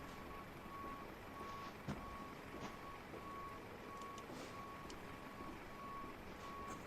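A truck's reversing alarm beeps steadily at an airport in a flight simulator, a faint, evenly spaced series of single tones over a constant background hum.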